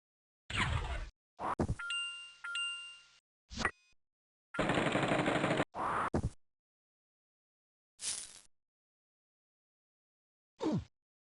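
Bombs and digging from the Lode Runner: The Legend Returns video game come as short, sharp bursts and a ringing ding, separated by clean silences.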